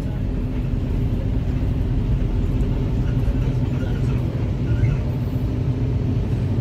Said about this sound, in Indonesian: Ini bus panorama 17